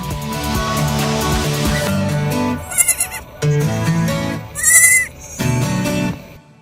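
Goats at a goat yoga class bleat clearly several times in close succession, loud and near. Indistinct background noise sits under the calls.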